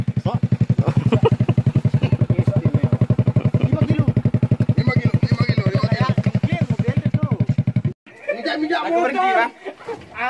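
A motorcycle ridden on a freshwater fishing trip thrums with a rapid, even engine pulse for about eight seconds, close and loud. Then it cuts out, leaving people chatting and laughing.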